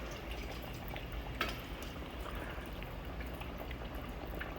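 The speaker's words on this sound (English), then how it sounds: "And you do want it to sizzle." A steady, faint crackling sizzle of chicken frying in hot oil, with no talking.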